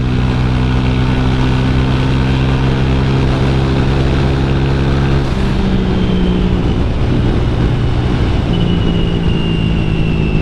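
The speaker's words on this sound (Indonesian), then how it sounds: "Pokoknya kalau udah masuk 100 makin narik ini motor." A Honda Vario 150 scooter engine drones steadily and loudly while riding, its harmonic tone shifting midway as it accelerates and revs higher, with wind noise throughout and no talking.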